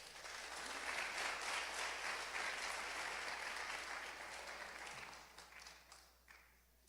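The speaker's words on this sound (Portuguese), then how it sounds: "Aplauda o Senhor." A church congregation bursts into sustained applause during a sermon, a dense steady wash of clapping that carries on for several seconds before thinning out near the end, with no voices over it.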